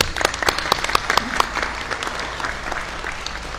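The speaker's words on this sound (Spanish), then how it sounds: "Les recibimos con fuertes aplausos." A crowd claps at the inauguration of a municipal basketball school, dense rapid applause with crisp individual claps early on that settles into a steady, slightly softer wash of clapping.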